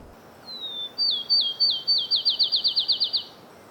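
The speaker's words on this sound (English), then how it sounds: "See, field sparrows here, not unusual." A field sparrow sings one clear song, starting with a few slow, high whistled notes that speed up into a rapid accelerating trill, close and alone against quiet background hiss.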